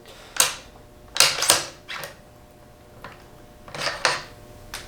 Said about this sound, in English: I'm going to remove the bolt